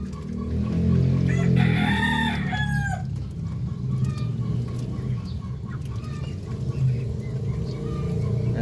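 Darag native chickens and muscovy ducks in a backyard pen, with a rooster crowing loudly early on amid ongoing clucking and low flock chatter, and a steady background hum throughout.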